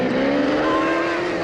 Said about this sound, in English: the car lifts like this and drives on its back wheels, speeding up